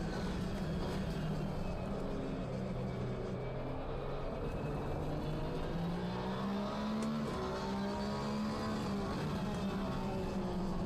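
Continuous racing engine whine from race cars in the sim racing game Assetto Corsa Competizione, with shifting pitch as the revs rise and fall over several seconds, loud and sustained without any talking.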